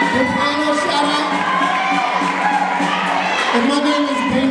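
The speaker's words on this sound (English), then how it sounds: "Give Shawn a big round of applause" Audience cheering and shouting at a school holiday showcase, a lively crowd with young voices whooping close by, while a presenter talks through it.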